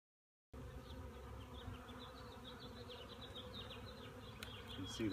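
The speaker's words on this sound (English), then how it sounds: "See, there's plenty of bees on here" Honeybees around hive frames being transferred from a dead-out hive give off a continuous, faint, close buzz with a few individual bees droning past.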